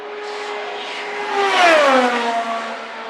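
An Indy 500 race car on a qualifying lap at Bump Day screams past, its high engine note swelling louder, then dropping sharply in pitch as it passes and fades down the track.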